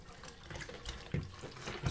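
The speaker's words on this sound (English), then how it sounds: "Just squishing out all of this rinse water." Rinse water squeezed out of a down quilt, soft wet squelches and trickling water in short bursts, faint and close, with no talk.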